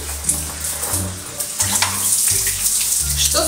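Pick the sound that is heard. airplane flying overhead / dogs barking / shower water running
shower water running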